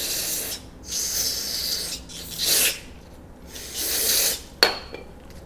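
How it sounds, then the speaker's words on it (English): Brake cleaner hisses out of an aerosol can in several bursts of one to two seconds each onto the filter of a Rinnai RSC160iN tankless water heater, close and fairly quiet, separated by brief pauses and ending with a sharp click. "spray it down with a brake cleaner"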